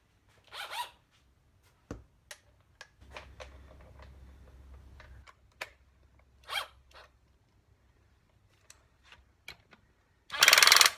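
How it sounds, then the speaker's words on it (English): A ratchet works on the engine case bolts of a BSA A70L motorcycle, giving short, sparse clicking bursts with quiet gaps, then a louder rasping burst at the end. "what we'll do now is grab the ratchet"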